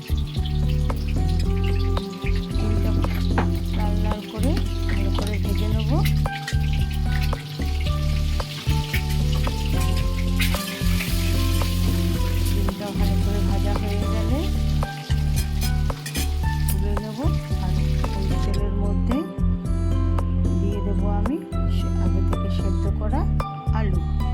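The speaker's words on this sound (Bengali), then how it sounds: "তেলটা গরম হয়ে এলে ডিমগুলো অল্প করে চিড়ে দিয়ে গরম তেলের মধ্যে দিয়ে দেবো" Slit eggs frying in hot oil with a pinch of turmeric for an egg curry, a steady loud sizzle and occasional stirring beneath continuous talk and background music.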